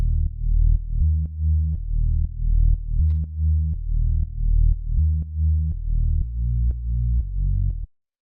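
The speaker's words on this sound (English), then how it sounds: "So the next thing we've got here is this bass" A simple synth bass line pulses in short repeating notes, deep and steady, playing alone before cutting off.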